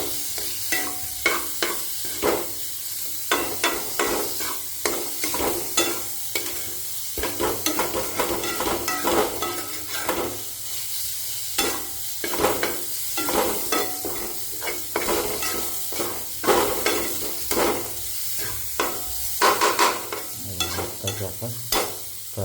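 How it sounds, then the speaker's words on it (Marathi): Leftover rice sizzles and fries in a pan while a spoon stirs and scrapes it over and over, an uneven scraping rhythm over a constant close hiss. "आता त्याला पण मस्त असं हलवता आहे."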